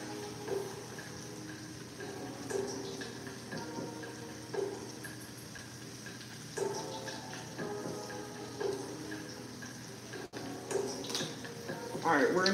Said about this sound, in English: So we're gonna put some chicken broth in here.